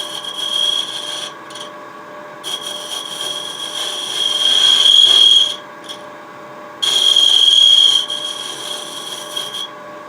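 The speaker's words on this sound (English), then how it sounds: "Some negative rake, the shear scrape." A negative rake scraper shear scraping the bottom of a fluted wooden pot on a lathe produces a loud, steady rasping hiss with a high whine, swelling in two longer bursts separated by brief pauses, with no speech.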